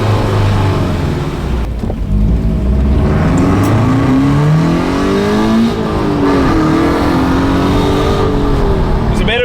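Drift car engine with performance modifications revving hard and loud, pitch rising and falling in repeated sweeps, steady and close throughout with a brief dip near the start.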